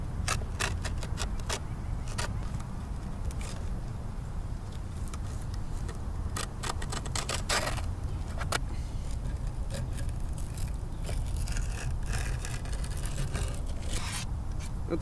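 A knife cuts through skateboard grip tape in repeated close scraping, rasping strokes over a constant low background rumble, the gritty slices coming in irregular clusters.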